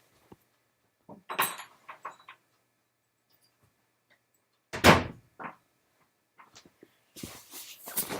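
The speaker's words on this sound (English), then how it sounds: "Hold on, I'm going to close the door." A door is shut indoors with one sharp loud thud, preceded by quieter handling clicks and shuffling steps and followed by a few soft knocks and rustles.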